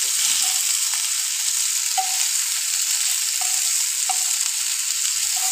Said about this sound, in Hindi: ये देखिए ये फ्राई होना शुरू हो गया है, हम इसको इस तरह से पलटते जाते हैं।